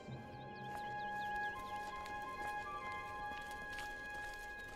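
Horse hooves clip-clopping in the fantasy game Oblivion, a soft regular trot of hoof beats over quiet ambient tones and a faint whistling bird-like chirp early on.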